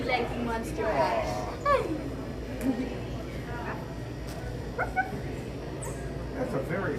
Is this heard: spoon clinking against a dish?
no